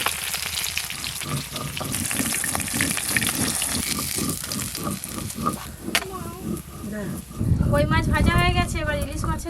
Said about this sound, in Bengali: এই কই মাছগুলো ভালো করে ভাজা হয়ে গেল তুলে নেবো